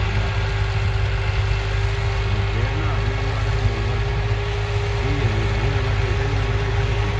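A Massey Ferguson 260 tractor drives a rotavator, and its diesel engine keeps up a steady, heavy, low rumble that holds a constant pitch. A voice briefly rises over the droning engine.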